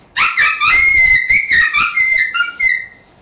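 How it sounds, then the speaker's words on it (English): A Quaker Boy predator call blown with a bite-down to raise its pitch, producing a high, wavering rabbit-distress cry in a run of close, loud, quavering bursts with no talking. "For your rabbits, if you bite down, it goes higher."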